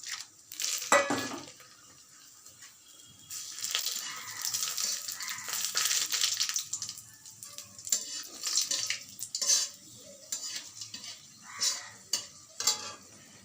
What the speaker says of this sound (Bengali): এই তেলের মধ্যেই এই কয়েকটা ফোড়ন দিতে হবে: গোটা গরম মশলা, শুকনো লঙ্কা আর তেজপাতা।